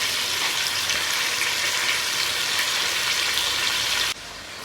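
Loud, steady frying sizzle from a pan of ingredients being fried in preparation for a wedding-style biryani, continuous and close without any talk, cutting off abruptly near the end.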